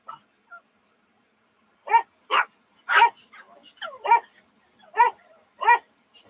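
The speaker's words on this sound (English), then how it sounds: "Excuse the dogs." Dogs bark in several sharp, separate bursts indoors, fairly close, spaced irregularly over a few seconds with quiet gaps between.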